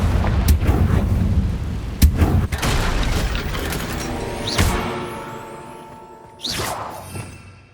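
The Confringo explosive spell in Hogwarts Legacy, cast in a fight: repeated booming blasts and whooshes, with sharp bursts near the start and midway and a final loud blast followed by a fading rumble.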